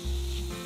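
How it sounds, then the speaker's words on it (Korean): Kimchi, meat and minced garlic hit hot oil and stir-fry for kimchi tteokbokki, a loud, dense sizzle that bursts up at once and holds briefly, close and without talk. "김치와 고기, 다진 마늘을 기름에 달달 볶아줍니다."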